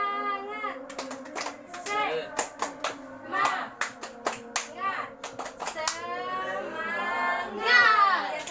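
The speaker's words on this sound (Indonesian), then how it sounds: "sebelum kita pulang kita tepuk semangat dulu ya" Children in a classroom perform a tepuk semangat rhythmic clapping chant, with close, sharp hand claps in patterned bursts alternating with their chanted voices.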